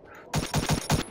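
A machine gun fires in Battlefield 1: after a brief quiet moment, five sharp, loud shots ring out in a quick, even rhythm, close by.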